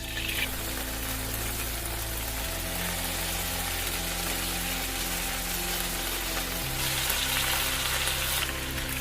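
Cooked chicken fries in oil in a hot pan for chicken mandi, giving off a steady, dense sizzling hiss that runs unbroken throughout alongside a low background hum.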